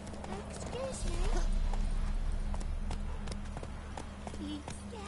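Hoofbeats of the horse Roach in The Witcher 3 video game, a steady clip-clop under game music with a short neigh or snort, while game characters talk over it.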